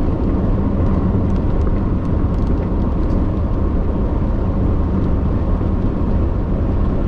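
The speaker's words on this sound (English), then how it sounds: "Sorry about the wind, y'all." Loud, steady wind from a severe squall line of storms buffets the microphone in a constant low roar for the whole stretch, with no voices.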